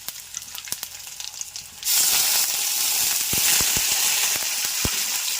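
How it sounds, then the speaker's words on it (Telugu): Tempering spices and garlic hit hot oil for an ivy gourd fry, a sudden loud hiss that settles into steady close sizzling with sharp pops and clicks, after a quieter stretch of scattered taps. "ఇప్పుడు అది వేస్తున్నాను తాలింపులు వేసాను"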